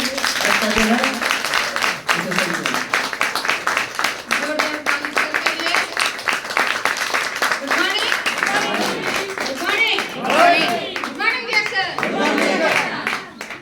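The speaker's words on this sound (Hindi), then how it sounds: "मैडम को देते हैं जोरदार ताली मैडम के लिए" Audience clapping at a DXN group meeting in a hall, a dense, steady wash of hands that carries on for the length of the clip with voices mixed in underneath.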